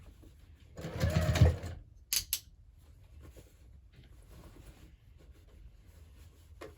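A sewing machine stitching a fabric hobo bag, one loud burst of rapid stitching followed by a couple of short clicks, then quiet handling noise.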